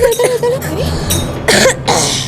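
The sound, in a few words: cough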